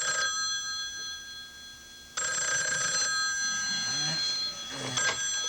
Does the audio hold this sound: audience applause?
no